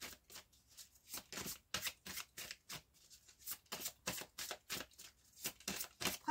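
Tarot cards being shuffled by hand, a quick rhythmic run of crisp riffling flutters and soft slaps repeating steadily, close and fairly quiet with no talking.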